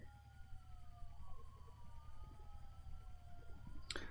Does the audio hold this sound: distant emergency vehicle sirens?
yes